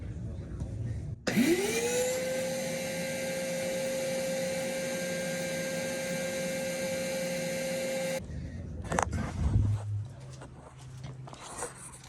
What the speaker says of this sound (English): Sir, I'll need to run the vacuum right here.